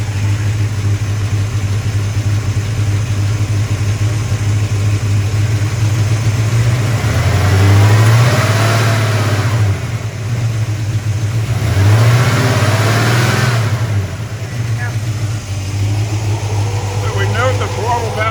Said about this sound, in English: As soon as I open the throttle,